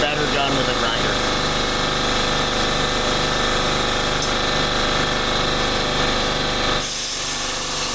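A plasma cutter slices through metal on a turbocharged S10 truck project, giving a steady loud hissing roar with a buzzing undertone that runs continuously before stopping abruptly near the end.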